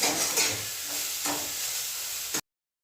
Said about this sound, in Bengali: লঙ্কাটা একটু ভালো করে ভেজে নেব